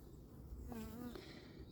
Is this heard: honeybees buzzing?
yes